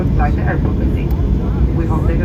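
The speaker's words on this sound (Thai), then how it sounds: "เครื่องบินกำลังเลี้ยวค่ะ" An airplane taxis and turns on the ground after landing in Germany, its engines a steady loud rumble heard from inside the cabin.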